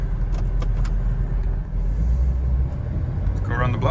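A road-driven Porsche Boxster, a flood-salvage rebuild, gives a steady low engine and road rumble throughout, close and continuous, with a brief higher whine near the end.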